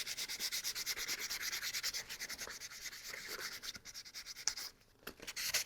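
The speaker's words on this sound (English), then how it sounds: "I can start by sanding the filler stuff that I did right here," Hand sanding of epoxy putty filler with 400 grit sandpaper on a homemade toy gun, a steady rhythmic scraping of quick close strokes that continues almost without a break.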